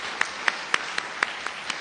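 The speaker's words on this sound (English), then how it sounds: "let's give him a big round of applause anyways, if he's not here." An audience at an awards luncheon claps in a short burst, with about seven distinct, evenly spaced claps standing out clearly over a soft room background.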